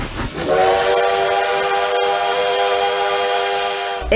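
A metro train in Teresina passes close by, its horn holding a loud, steady tone with a rumbling run that lasts the whole stretch, heard alone without talk.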